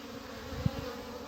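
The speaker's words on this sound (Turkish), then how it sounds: "uğultu yapmaya, vızıltı yapmaya devam ediyorlar arkadaşlar" Honeybees of a queenless colony buzzing, a continuous close, droning hum of many bees with one brief louder thump in the middle.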